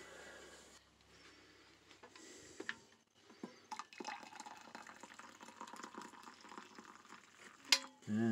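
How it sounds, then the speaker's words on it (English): Extra hot water is poured into an Aeropress coffee cup inside a camper: a few soft clinks, then a quiet, close trickling stream that runs for several seconds before a brief louder knock at the end. "pour a little bit extra hot water in there, maybe double the amount that's in the cup"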